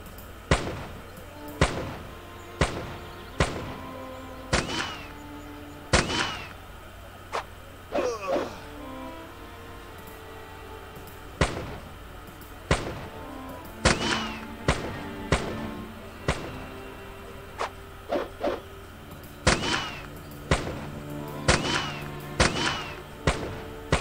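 Repeated sharp gunshots from a gunner character in the steampunk fantasy RPG Arcanum, firing as single cracks at irregular intervals over a quiet game ambience with faint musical tones.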